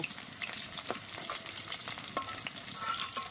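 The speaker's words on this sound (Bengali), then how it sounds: "মাছগুলো হালকা করে ভেজে নিয়েছি, এবার তুলে নেব।" Hilsa fish pieces frying in hot oil, a dense, steady close-up sizzle with light crackles and occasional stirring taps, continuous and without talk.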